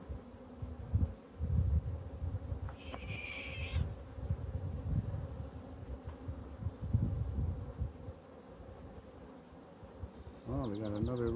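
Honeybees and drones around a hive give a low, fluctuating buzz close by, with a brief whine, faint high chirps and a bird-like trill near the end.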